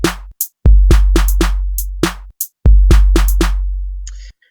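Hip hop drum pattern from a Groove Pizza web drum sequencer: heavy booming kick hits with snappy snare and crisp hi-hat ticks in a steady, loud loop with brief gaps, no talking.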